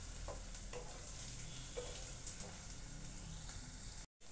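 Chopped ginger and a small green chilli are stir-fried for a turnip sabzi, a soft, steady sizzle with faint spoon clicks and stirring, fairly quiet and close, then a sudden brief cut near the end.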